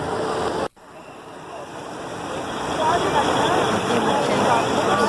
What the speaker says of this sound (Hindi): पानी की आवाज़ बहुत प्यारी लग रही है